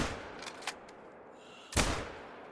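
Rifle shots in theHunter: Call of the Wild hunting game, a few faint distant cracks early on, then one loud close shot with a rolling echoing tail.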